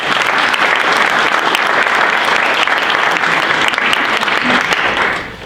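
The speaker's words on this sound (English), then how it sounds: "Can we give them a round of applause?" Loud, dense applause from a room full of people at a business luncheon on taxes and tariffs, steady continuous clapping that holds for several seconds before trailing off near the end.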